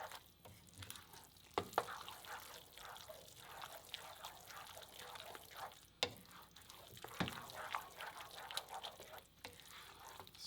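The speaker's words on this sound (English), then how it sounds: "Stirring constantly with a wooden spoon" A wooden spoon stirs a creamy mixture with butter in a pan, scraping and clacking steadily with soft sizzles and sharp knocks against the pan throughout, close and alone.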